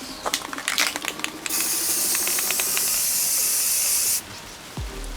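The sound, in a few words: aerosol spray paint hissing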